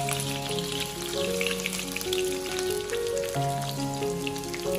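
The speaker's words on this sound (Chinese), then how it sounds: "油热之后，把鱼块一块一块的下入锅中" Fish pieces, grass carp for braised fish, crackle and sizzle in hot oil in a wok, a steady hiss running beneath loud background music.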